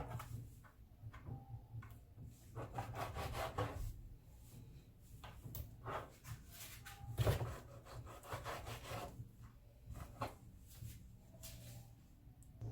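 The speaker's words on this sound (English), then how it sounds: "I'm just trimming up my ribs the way I like it." A knife trims raw pork ribs for Jamaican-style barbecue on a wooden board, making soft, irregular scraping and sawing strokes with dull knocks against the wood, close and fairly quiet.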